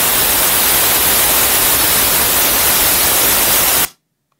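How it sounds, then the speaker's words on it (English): Loud, steady broadband hiss of white noise from an op-amp circuit, full and even across the range, cutting off abruptly into silence. "let's just listen to what the white noise sounds like"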